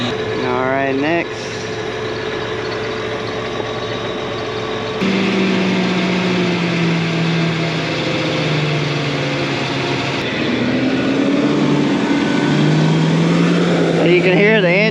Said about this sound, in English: You can hear the engine start speeding up